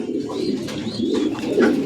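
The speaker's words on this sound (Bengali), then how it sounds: "এই যে একটা জোড়া কবুতর আছে ইংলিশ নান" English Nun pigeons coo in low, throaty rolling calls, repeated in soft overlapping bursts close by.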